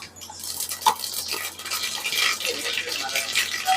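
Mustard seeds crackle and sizzle in hot oil while tempering is started for a stuffed brinjal curry, a steady bright spitting hiss with a small clink of a utensil near the start, close and fairly loud.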